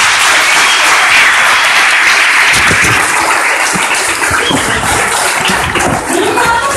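Sustained audience applause at a Danish stand-up comedy championship, loud and dense throughout, with a few scattered whoops and cheers rising near the end.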